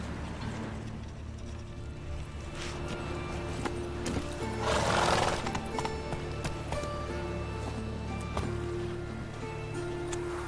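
Horse hooves from The Witcher 3 clip-clop in a steady rhythm, with a neigh in the middle, over game music and mechanical ambience.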